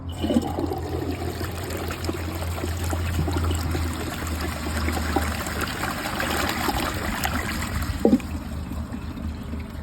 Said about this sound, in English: Tank's just full, let's flush the glove.